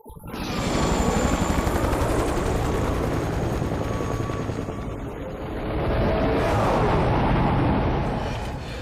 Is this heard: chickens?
no